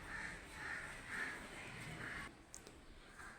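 A crow caws repeatedly in an even rhythm, four or five harsh calls fairly close over quiet background, then stops as a few faint clicks follow.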